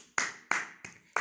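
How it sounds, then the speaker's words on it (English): Four sharp hand claps in an even, steady rhythm, close and fairly crisp, each ringing briefly before the next, with no voices. "Clapping. This is clapping."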